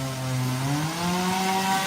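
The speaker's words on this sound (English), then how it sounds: "This guy just chainsawing the back of his van." A chainsaw cuts into the back of a van in a countryside ski town, its engine whining loud and close in a steady, slightly rising drone for the whole short stretch, with no talking.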